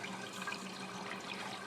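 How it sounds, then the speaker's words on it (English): Water flows steadily through evaporative coolers in a dual-loop water system under test, a continuous close hiss and trickle with no talking. "I can get some serious flow with these evaporative coolers up on the top"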